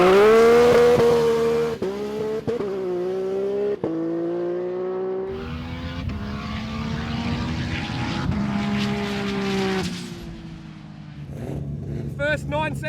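Nissan GT-R street car accelerating hard on a runway drag pass, engine rising through gears with shifts, loud and close then fading, a voice briefly over it.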